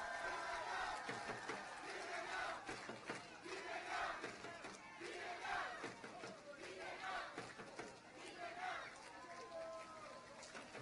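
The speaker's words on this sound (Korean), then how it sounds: "여러분 큰 박수로 환영해 주십시오" A street rally crowd for a gubernatorial candidate at Sanbon Rodeo Street in Gunpo cheers and shouts in a dense, continuous roar of voices with clapping mixed in, loud and sustained throughout.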